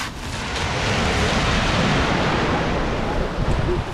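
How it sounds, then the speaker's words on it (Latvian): Sea waves breaking on the shore near the old Liepāja forts on the Latvian coast, a steady loud wash of surf mixed with wind buffeting the microphone, continuous throughout with no voices. "Viļņi."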